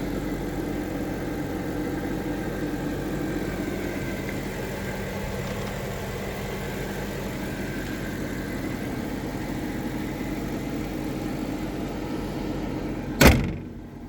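Car engine idling steadily with the hood open, an older classic car fitted with a remote-controlled auxiliary heater; a continuous even hum runs throughout, ending in one sharp loud thud near the end like a hood or door closing.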